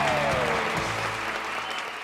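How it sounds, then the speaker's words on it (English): Audience clapping in a broad, steady wash of applause that fades slightly toward the end, moderately loud with no talk over it. "And I got to give him a round of applause here."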